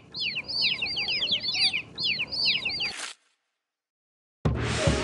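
Cartoonish chicken clucks from an educational children's English learning game chatter in quick, busy bursts, then cut to silence before a burst of noise returns.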